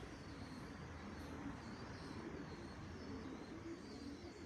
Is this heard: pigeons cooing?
yes